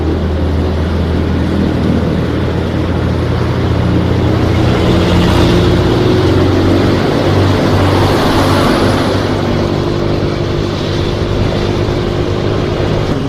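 A car on the road in Indonesia, a loud steady engine and road rumble heard close up, with a passing vehicle swelling midway, no talk.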